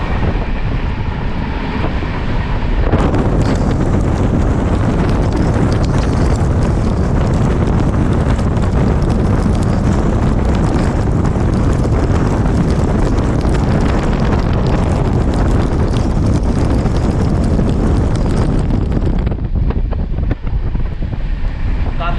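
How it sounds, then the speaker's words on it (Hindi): Heavy rain and rushing wind on the Ranthambhore Express train crossing Rajasthan, a loud continuous roar that swells abruptly and runs unbroken before dropping away near the end. "काफ़ी तेज़ हो गई है बारिश।"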